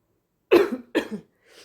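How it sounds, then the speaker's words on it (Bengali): A woman cooking in a kitchen coughs twice in quick succession, close and clear, followed by a faint breathy throat sound in an otherwise quiet room. "আমার না মানে কাশি এসে যাচ্ছে"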